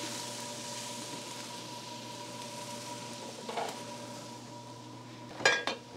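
Sopas, a creamy soup with hotdog slices, being stirred in a pot, giving a low steady simmer with faint clinks of a utensil against the metal rim and a louder scrape near the end; no talk.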